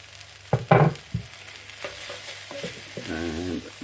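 Chopped pepper is added to a pot of softened vegetables for sweetcorn chowder, giving a few sharp clatters and knocks as it goes in, then a gentle sizzle and scraping stir near the end.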